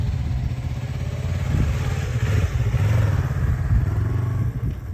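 A motorcycle that had not run for years runs steadily nearby, its engine chugging and rising slightly in revs with a constant mechanical rumble and no voices.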